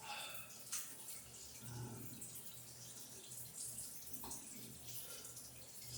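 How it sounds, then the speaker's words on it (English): A shower runs with a soft, steady hiss of falling water, quiet and even, with faint splashes throughout. "Recording live from the shower."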